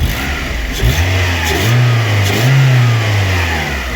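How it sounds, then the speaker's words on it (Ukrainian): A VAZ 2112 car's 16-valve engine revs up and down several times, rising to a strong roar and settling back, loud and close with no talking. "16 клапаний двигун поприятній працює, чим 8 клапаний"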